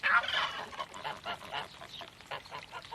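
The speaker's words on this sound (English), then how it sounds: "3 geese and a male goose called a gander." Three geese and a gander honking together in a farmyard, a busy overlapping run of nasal honks and cackles at moderate distance with no voices.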